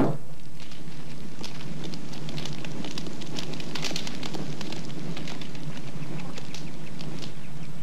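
A large campfire burns at a remote Kodiak camp, giving a steady crackle with scattered sharp pops and snaps, fairly close and continuous, with no one speaking.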